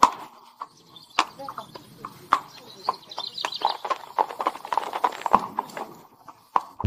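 A carriage horse's hooves clip-clop on the streets of Mdina, Malta, in a steady uneven rhythm of fairly close, moderately quiet strikes.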